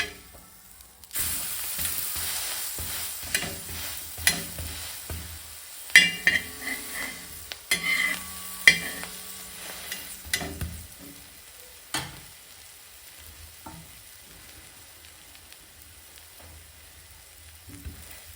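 Cheese garlic bread toasting in a pan, with a steady low sizzle and bursts of scraping and clinking as the slices are turned over. The loudest handling noises come near the middle, and then the frying fades to quieter crackling.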